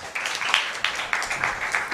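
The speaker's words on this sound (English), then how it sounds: "let's clap for him" Audience applause at an English-language workshop inaugural ceremony for a humanities department, a steady spread of many hands clapping with rhythmic swells, fairly close and filling the room without voices over it.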